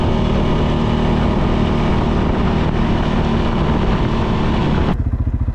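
A CFMOTO 600 quad ATV rides solo along a foggy back road, its engine droning steadily and loud throughout, with the pitch and texture shifting near the end as the throttle changes.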